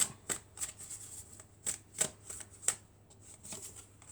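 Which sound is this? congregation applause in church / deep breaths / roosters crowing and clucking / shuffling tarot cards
shuffling tarot cards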